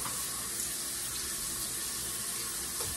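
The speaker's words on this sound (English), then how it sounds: "I'm going to wash my face and stuff. So I like to use hot water." Hot water runs steadily from a bathroom tap into a sink for face washing, a continuous close hiss and splash with no talking.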